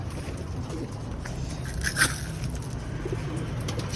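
Pigeons coo near a trap, soft and close, with one clearer call standing out over a steady low background rumble.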